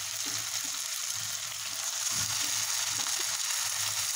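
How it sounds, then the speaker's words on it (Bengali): Beef head meat, tongue and spleen frying with onions in a pan, a steady close sizzle running throughout with a few soft stirring bumps and no voices. "দেখুন পেঁয়াজটা ভাজা হয়ে গিয়েছে। এখন আমি দিয়ে দিব গরুর মাথার অংশ, জিহ্বা,"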